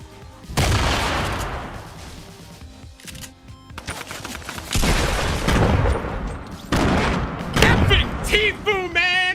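Gunfire in the Fortnite video game during a one-on-one streamer battle, loud bursts of rapid shots and booms in several volleys with pauses between, mixed with game sound effects.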